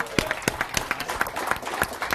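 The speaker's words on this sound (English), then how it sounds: "So big round of applause for Jeff as well." Scattered applause at an evening cancer discussion event, a modest audience clapping with distinct separate claps over a low room murmur, steady for a couple of seconds.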